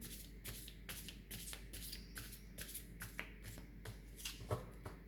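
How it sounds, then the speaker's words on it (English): Tarot cards are shuffled and riffled by hand in repeated quick bursts of papery flicks and soft slaps, close and quiet, with no talk. "let's start by clearing the cards from the previous reading"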